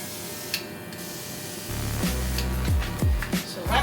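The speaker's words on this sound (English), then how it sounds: "it's spraying very lightly" A paint spray gun hisses faintly and steadily, spraying very lightly onto an engine valve cover, with a low motor hum starting partway through and a few sharp clicks.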